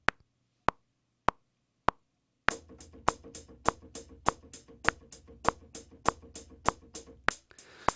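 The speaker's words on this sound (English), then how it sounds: "So that's simple eighth notes on a hi-hat sound." Hi-hat playing a steady run of simple eighth notes, evenly spaced sharp ticks that start sparse and then settle into a busier, continuous groove, close and fairly quiet with no talking.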